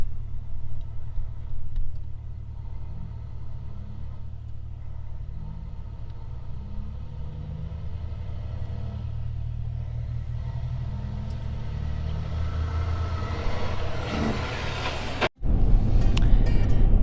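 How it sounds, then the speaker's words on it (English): A wide load truck hauling a big trailer rolls past on a small road, a low engine rumble building and swelling steadily, with a sharp bump near the end as it goes by. "stopped because of a wide load coming through"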